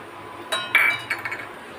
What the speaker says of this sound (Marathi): गॅसची फ्लेम लो करून रवा मी तुपावर परतून घेते.